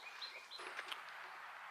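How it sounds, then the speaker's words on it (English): Birds sing on McAfee Knob along the Appalachian Trail, a few faint, high chirps and short whistled notes drifting over quiet mountain air, distant and soft with no talking. "You hear those birds?"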